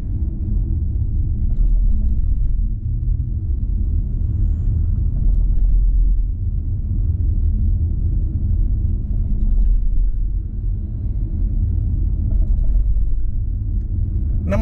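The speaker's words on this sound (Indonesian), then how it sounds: "Seperti biasa kecepatannya 30 km per jam lewatin speed breaker." Inside a BMW i5 electric sedan rolling over a speed bump at 30 km/h, a steady low road rumble fills the cabin, with a brief soft knock at the very end.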